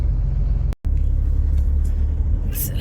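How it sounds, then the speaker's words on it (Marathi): A traffic jam stretches far along a road. Idling vehicles give a steady, close, low engine rumble with one brief dropout and a short hiss near the end. "पूर्ण ट्रॅफिक जॅम आहे लांबपर्यंत"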